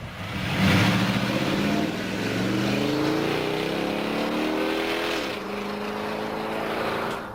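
Car with a Transgo-modified AODE automatic transmission (1991–2008 Ford) accelerating through upshifts, engine tone rising then dropping at each quick, crisp gear change, steady and fairly loud with no talk.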